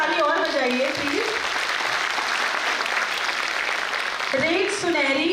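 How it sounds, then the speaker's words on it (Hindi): Audience clapping at a school annual day, loud and sustained from a large crowd, with a voice talking over the start and again near the end. "एक बार ताली और बजाइए प्लीज।"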